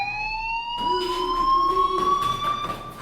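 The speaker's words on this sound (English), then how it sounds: "do you hear that fire alarm?" An electronic fire alarm in the video game Life is Strange rings steadily with high, sustained tones, joined by a lower wailing tone partway through, loud and continuous with no voices.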